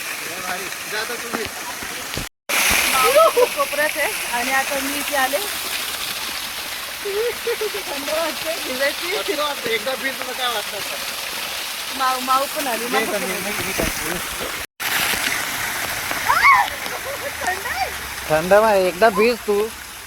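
Heavy monsoon rain pours down in a residential colony, a steady wash of falling water and runoff cascading like a waterfall, continuous and close, while several people talk and call out over it.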